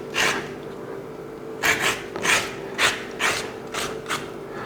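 Scraping out the inside of a vegetable during Mediterranean vegetarian cooking, much like hollowing a pumpkin: a series of about six rasping scrapes in an uneven rhythm, close and moderately loud, with no talking.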